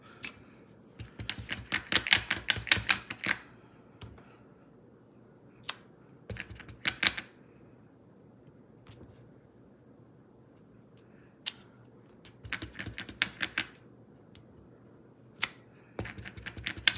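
Rubber stamps pressed onto paper for a handmade card, giving quick bursts of sharp, close tapping knocks in short clusters separated by quiet pauses, with no talking.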